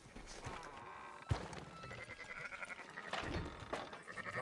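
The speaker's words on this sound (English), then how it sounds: "Fine sheep." Sheep bleat in the video game Red Dead Redemption 2, a few wavering calls over an ambient outdoor game background, with faint clopping nearby.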